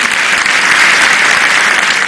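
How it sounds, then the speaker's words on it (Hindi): An audience at an LIC program in India bursts into loud, dense applause, a steady wash of clapping from many hands that lasts the whole moment. "एक बार जोरदार तालियां।"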